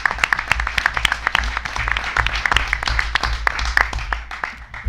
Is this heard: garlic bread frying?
no